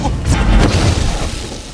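A film explosion booms in a short, loud burst with a heavy low rumble and crash, then fades into a rough tail.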